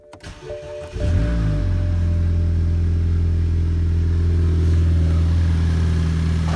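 A factory turbo car engine cranks briefly, then catches and settles into a loud, steady running idle with a low rumble, with no exhaust hooked up, heard close and alone.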